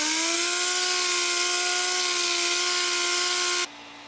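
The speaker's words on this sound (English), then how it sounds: "We're going to take this down, starting with some pretty coarse 80 grit." Power sander working coarse 80 grit over the wooden stock of a Lee Enfield No. 4 Mk1 rifle, a steady loud whine that holds evenly for over three seconds, then drops abruptly to a lower hum as the tool winds down.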